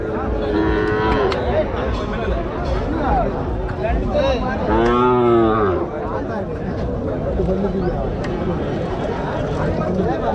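Cattle moo at a busy livestock market in Tirupattur district, one long, loud, drawn-out low call rising over a constant babble of crowd voices and people talking nearby.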